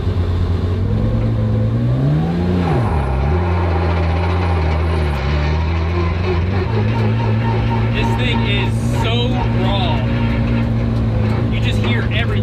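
A 1300hp BMW E46 M3 race car with a turbocharged S54 engine idling in neutral, a loud steady drone with a blip of revs early on, heard up close with faint voices in the background.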